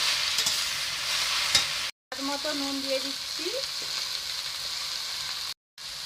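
Red amaranth greens fry in a pan with a steady close sizzle and occasional stirring scrapes, while someone speaks briefly over it.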